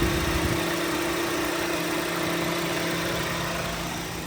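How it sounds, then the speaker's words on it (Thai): A 2007 Honda City ZX 1.5 VTEC CVT engine idles with a steady, even hum and low rumble, running smoothly without surges. "ดูสภาพเครื่องยนต์เครื่องยนต์เดินนิ่งเดินเรียบนะครับ"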